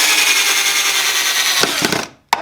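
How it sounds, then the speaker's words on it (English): A power drill drives screws into wood for a stool, a loud steady whine that breaks into a few short bursts before cutting off, then one final quick buzz. "So I'll just repeat the process, drill, and then just add my screws."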